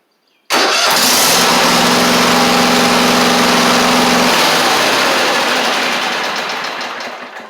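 A Kohler-swapped Craftsman GT5000 garden tractor engine cranks over on a new starter and fires, then runs steadily at a loud, close, even idle without speech.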